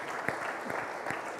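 Brief applause from a corporate event audience, a dense patter of many hands with a few sharper claps standing out, heard alone.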